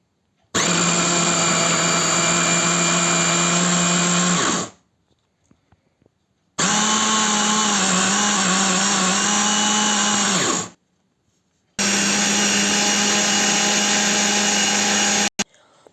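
A blender whips bean pâté in three long, loud bursts of whining motor of about four seconds each, separated by short pauses.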